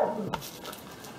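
A small puppy whimpers in a brief, soft whine close by, with a faint yip-like rise midway, amid nearby older dogs.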